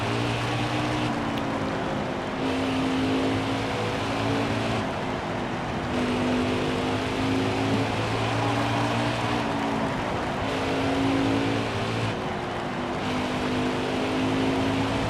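NASCAR race car engine droning steadily at Bristol in the NASCAR Heat game, a continuous loud hum with shifting pitch as it runs the corners, no talk over it.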